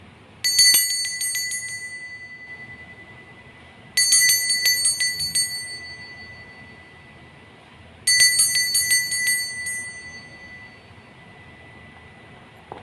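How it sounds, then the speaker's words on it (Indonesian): A bright bell rings three times, each a quick cluster of metallic dings fading slowly, evenly spaced several seconds apart with quiet between. "Kita akan memulai dengan ditandai lonceng berbunyi"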